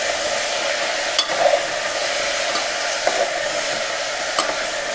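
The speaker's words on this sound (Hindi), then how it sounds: "इसको थोड़ा चलाऊंगा और इसको मैं मिक्स कर दूंगा" Salted mixed vegetables stirred in a pan, giving a steady hiss with a few soft scraping clicks from the utensil, close and even throughout.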